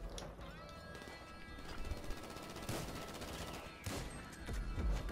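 Rapid bursts of gunfire from a shotgun in GTA Online, with several sharp blasts amid constant game noise and rumbling, fairly distant and even in level throughout.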